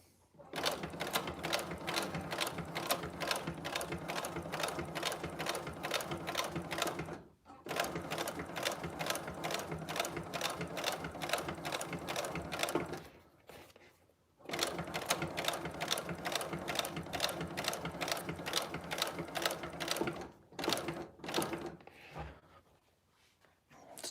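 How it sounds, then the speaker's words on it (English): A sewing machine stitches in long steady runs of fast rhythmic mechanical clatter, stopping briefly between bursts, close and loud with no talking. "Stitching looks nice."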